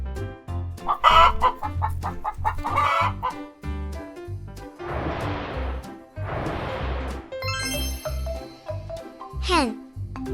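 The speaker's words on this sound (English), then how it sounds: "Hen." A hen clucks in repeated bursts, with crowing-like calls and short tinkling sounds between them, heard clearly and close with no voice over the calls.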